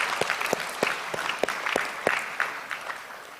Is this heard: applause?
yes